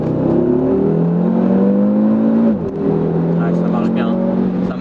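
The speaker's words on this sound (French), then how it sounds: "Allez, petite accélération." A 2019 Audi RS3 accelerates hard from inside the cabin, its engine note rising steadily, dropping briefly at a gear change, then climbing again. A voice speaks faintly beneath the engine.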